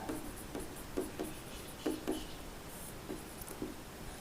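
A pen writes on paper in short, scratchy strokes, with soft, irregular bursts close by against a quiet background.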